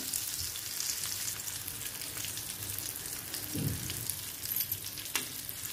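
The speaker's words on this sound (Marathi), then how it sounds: "हे बघा अशा तऱ्हेने मीडियम फ्लेमवरच बघा मी व्यवस्थित भाजलं जातंय।" Karali fish pan-frying over a medium flame, a quiet steady sizzle and crackle of oil running throughout, with a few faint spatula scrapes and taps.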